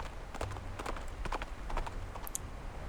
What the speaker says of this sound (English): startles the nibbling horse. It lifts its head and bolts into the distance.